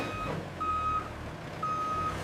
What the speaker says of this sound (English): A yellow forklift loads helmet boxes into a delivery truck,